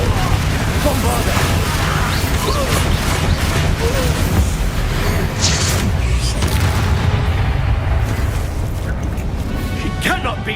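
Spell explosions from Hogwarts Legacy, Confringo and Bombarda blasts, a dense continuous roar of booms and crashing debris with voices in the game mixed under the din.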